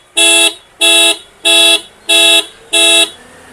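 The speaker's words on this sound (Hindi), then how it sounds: "ये देखिए, ये इसका सायरन बज उठा है।" A locked Tata Altroz 2026 sounds its car alarm siren after a hand rests on the bonnet: five loud, evenly spaced electronic blasts about half a second each, with short gaps between them and no voices.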